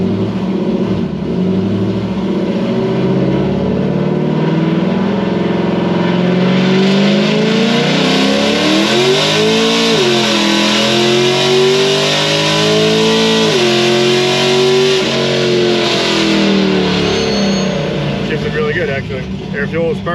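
A cammed car revs hard on a dyno pull in second gear with its tire spinning, giving a loud, sustained engine roar whose pitch climbs, dips and surges again over twenty seconds.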